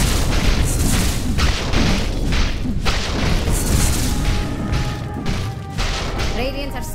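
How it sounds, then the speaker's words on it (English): In Dota 2 a tower comes under attack amid dense battle noise, with repeated heavy booms, thuds and crashing impacts that stay loud throughout and are mixed with game voices. "Dire's bottom tower is under attack!"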